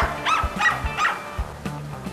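A young dog barks repeatedly during an agility run, several sharp yelps in quick succession followed by a couple more, close and clear.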